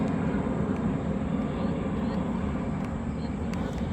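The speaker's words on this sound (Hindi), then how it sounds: "हवाई जहाज उड़ रहा है।" An airplane flies overhead as a steady, faint low drone with a broad rumble, continuous and distant throughout, with no change in level.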